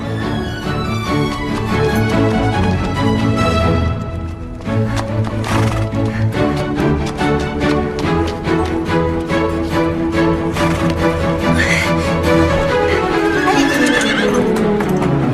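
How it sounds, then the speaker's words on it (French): A horse neighs loudly over the steady clatter of hooves, with a busy musical backdrop running throughout. "Mon cheval! Apportez-moi mon cheval!"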